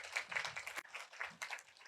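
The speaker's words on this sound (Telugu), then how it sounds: "వారికి ఒకసారి మనం గట్టిగా చప్పట్లు కొడదాం" Loud crowd clapping from an audience at a Telugu spiritual gathering, dense and continuous with a brief dip near the middle before swelling again.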